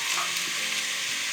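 Onions, celery and carrots frying in a pan for a beef and pork ragu, a steady close broadband sizzle with light stirring clicks throughout, no voices.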